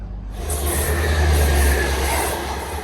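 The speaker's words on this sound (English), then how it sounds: "The Wigan service passing through there." A passenger train to Wigan rumbles through a station steadily, a deep low roar with a faint high whine on top, fairly close and continuous without any voices.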